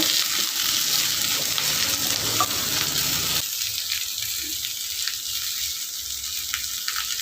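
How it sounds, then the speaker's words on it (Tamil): Sliced ivy gourd sautéing in hot oil in a pan gives a steady, close sizzle that runs the whole time, turning slightly quieter and thinner partway through, with faint stirring scrapes. "எண்ணெயிலே நல்லா வதக்குனா தான் ரொம்ப நல்லாயிருக்கும்"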